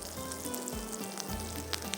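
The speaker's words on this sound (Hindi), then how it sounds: "तो ये जाएगा ऊपर से तड़का।" Tadka tempering with curry leaves sizzling in hot oil, a steady frying hiss with short bursts of crackle and spatter, close and continuous, no voices.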